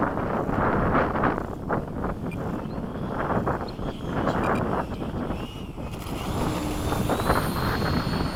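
Gusty wind buffets the microphone at a model aircraft field where an FMS 80mm Hawk jet is flying touch-and-goes, a loud continuous low rumble with the faint whine of the model passing.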